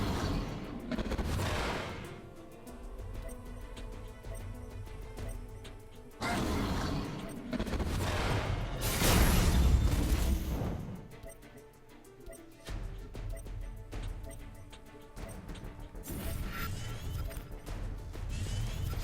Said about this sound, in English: I was able to just use the double flash to blow up the guy and do 4 to my opponent